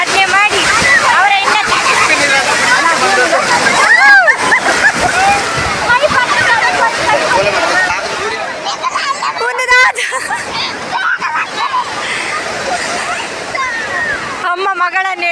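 Sea waves splashing on a Goa beach, loud surging washes of water close by, with a crowd of beachgoers chattering and shouting throughout.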